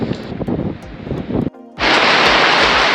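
Loud, steady rush of wind and rain hitting hard in 40-mile-an-hour gusts in New Zealand, briefly dropping off before the blustery roar surges back even stronger.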